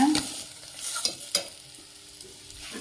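Onion and garlic fry in a pan with a steady close sizzle, punctuated by a few sharp stirring scrapes and clinks over the short stretch.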